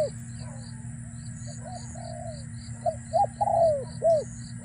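Decoy dove cooing outdoors: a few close, rhythmic coos in the second half of the clip over a steady insect-like drone and low background rumble.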